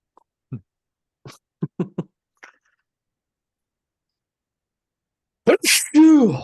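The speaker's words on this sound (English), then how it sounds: "I'm going to sneeze." A single loud sneeze bursts out near the end, close to the microphone, after several short quiet mouth sounds and a long silence.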